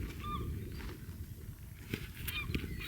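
Geese honk by glacial lakes near the Canada border in the Skagway area, several calls at a moderate distance over a low wind rumble, with scattered sharp honks toward the end.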